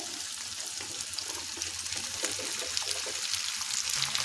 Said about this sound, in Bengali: এখন লঙ্কাটা তিন মিনিট হাই ফ্লেমে ভেজে নিতে হবে